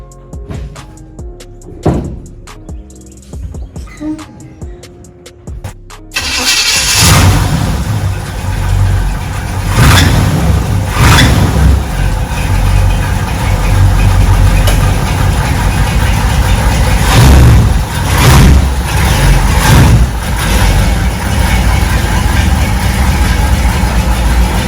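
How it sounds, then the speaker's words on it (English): A 1964 Chevrolet Impala engine under restoration cold-starts after several seconds of quiet clicking and shuffling, then settles into a loud, steady idle with periodic surges and sharp knocks throughout. "now I'm about to hop into the 64 and go ahead and give you all that cold start"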